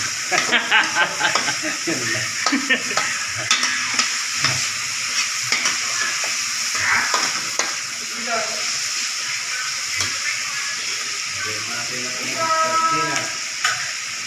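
Onion, tomato, garlic, ginger and chili sautéed in a pan, with steady sizzling and frying under repeated scraping and stirring clatter, close and fairly loud, with brief talk in the background.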